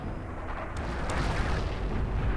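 Booming artillery shots in Forgotten Hope 2, a World War II multiplayer battle, heavy low rumble rolling on continuously with sharper cracks mixed in, no talk.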